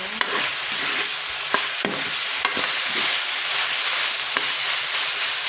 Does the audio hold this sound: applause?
no